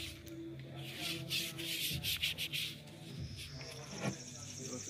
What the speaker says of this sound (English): So I'm gonna polish it with the sealer.